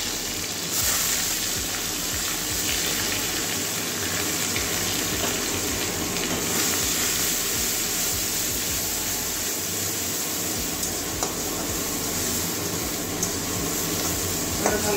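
Onions frying in a pan with a dried red chilli for a soybean curry, giving a steady, close sizzle with faint stirring scrapes that runs unbroken throughout, with no voices.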